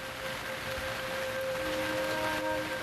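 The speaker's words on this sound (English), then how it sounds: "First rain of the trip." Rain falling in the woods on a black bear hunt, a steady soft hiss of drops on leaves, continuous and fairly faint, with a few thin tonal hums threading through and no talk.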